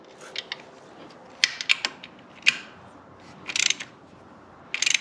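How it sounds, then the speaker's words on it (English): A wrench tightens the oil drain plug on a Yamaha VMAX 1700 motorcycle, giving sharp ratcheting clicks in short bursts separated by pauses, close and fairly clear over quiet background. "So I'll just go ahead and hand tighten it for now. Alright, I'll grab the wrench,"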